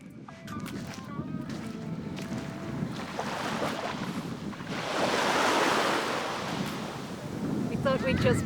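Surf washing onto Olympus Beach in Turkey, a steady broadband wash that swells in the middle and again at the end, close by and heavily buffeted by wind on the microphone.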